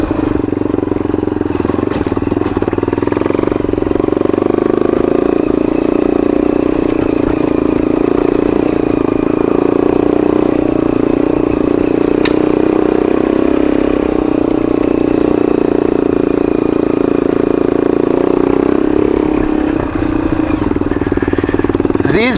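Yamaha Serow motorcycle engine droning steadily while riding, a continuous loud mid-pitched hum with slight rises and falls in pitch and no talk over it.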